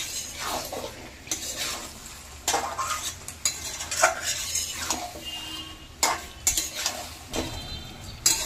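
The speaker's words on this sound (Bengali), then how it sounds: "চিকেনটা দিয়ে ভালো করে নেড়ে ঢাকা দিয়ে দিয়ে কষে নিতে হবে।" Marinated chicken is stirred and fried in a pan for chicken pulao, with a utensil scraping and clinking against the pan in irregular strokes over a steady close sizzle, no talking.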